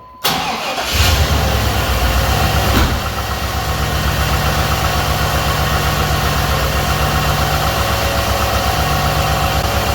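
A 1998 Chevy Silverado pickup engine cranks and catches, then settles into a steady, loud, close rumbling idle that continues to the end.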